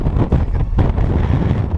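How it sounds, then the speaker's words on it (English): Loud, constant wind buffeting the microphone with a deep rumbling roar that gusts and swells, no talking, on the South Downs Way near Eastbourne overlooking the English Channel. "It's very windy."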